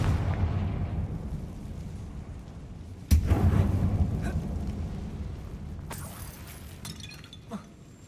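Explosive spell blasts such as Bombarda and Confringo in Hogwarts Legacy: a low rumbling boom erupts suddenly, followed by a second sharp burst with crackling debris, over a continuous deep background drone.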